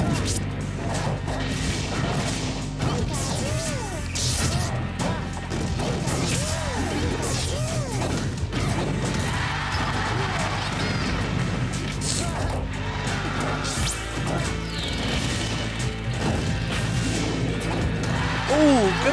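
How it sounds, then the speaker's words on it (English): Lucario lands a forward smash during a Super Smash Bros doubles tournament match, with sharp crashing hits and thuds inside a busy, dense mix of game effects and voices. "good forward smash by AK"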